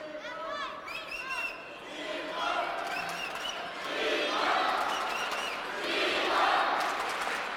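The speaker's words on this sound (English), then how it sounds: "Very rarely do we hear someone out cheering the Chinese fans in the crowd." A dense arena crowd at a table tennis grand final roars and chants, swelling louder in waves, with overlapping shouts and voices throughout.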